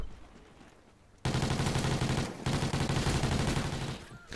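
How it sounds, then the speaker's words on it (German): Automatic gunfire in the shooter game Call of Duty: Ghosts starts abruptly after a quiet moment, a loud rapid burst of shots that breaks briefly and then resumes in a sustained stream. "ich glaube, die schießen auf den Kopf"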